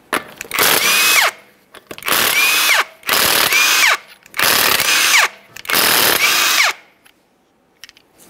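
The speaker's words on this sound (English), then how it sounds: "To remove your wheel, you have 5 19 millimeter lug nuts. We'll get those out of the way" Impact gun spinning off five 19 mm lug nuts from a Ford Fusion front wheel: five loud, separate bursts of whirring and rattling, each about a second long, with short pauses between them and a quiet tail.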